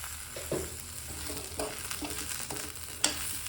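Spices such as coriander powder frying in a pan for a head mutton curry, with a spoon scraping and stirring in irregular strokes over a steady low sizzle, close by and with no talking.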